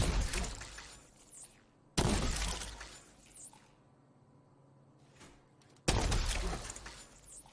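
Video game gunfire in the firing range of The Division 2, heard as loud, close bursts of rapid shots with crackling, shattering impacts and decaying tails between volleys.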